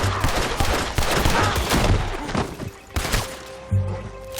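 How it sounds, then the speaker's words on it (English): Bursts of gunfire in the Red Dead Redemption 2 game, a loud dense fusillade of overlapping shots and rattling volleys in an outdoor shootout with an army patrol, close and continuous with brief pauses. "Shoot that bastard already."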